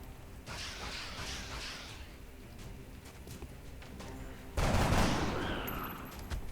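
Gunfire from soldiers in XCOM: Enemy Unknown, a dense crackling burst that erupts after a stretch of quieter rumbling and rattle, loud and close, then trailing off.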